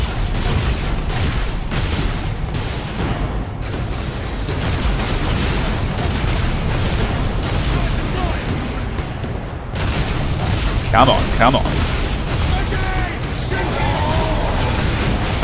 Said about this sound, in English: At least the plasma cannon does sufficient damage.